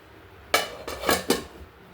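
Metal lid set down over a dish of dal at a home breakfast table, three close clanks about a quarter second apart with no talking.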